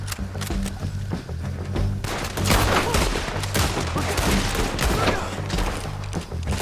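Dense gunfire in the Red Dead Redemption epilogue: volleys of rifle and pistol shots crack back and forth, loud and near, over a low rumbling game score, with shouted voices breaking through briefly.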